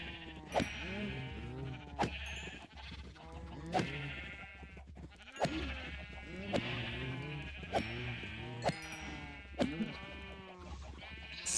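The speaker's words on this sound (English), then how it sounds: "Oops, I accidentally killed all of my gray sheep." Sheep in Minecraft bleat repeatedly, a run of close, loud, wavering bleats in uneven rhythm that overlap at times and carry over a faint low hum.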